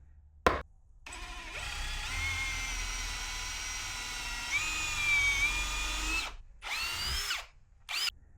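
A power drill boring big holes into wood whines steadily at high speed for several seconds, cutting out briefly twice near the end before short final bursts.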